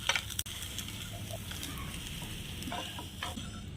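Palm-pulp pitha with coconut filling frying in a pan, a soft continuous sizzle with a brief clatter as it is flipped, then the gentle hiss of frying goes on.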